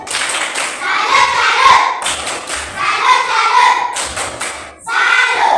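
Elementary school class performing a rhythmic patterned clap in unison, several short bursts of hand claps and thumps separated by brief pauses, with children's voices chanting along.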